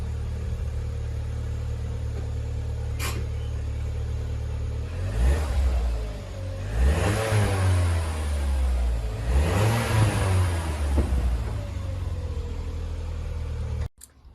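Loud, close engine of a 2009 Vauxhall Corsa VXR hot hatch idling, then revving hard twice in rising and falling sweeps before settling back to a steady rumble, ending in a sharp cutoff.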